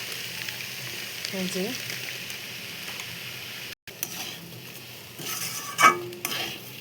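Broken wheat (dalia) frying and stirred in a pan for Bengali vegetarian khichuri, giving a soft sizzle with scraping spoon strokes, interrupted briefly, with a short spoken phrase near the end.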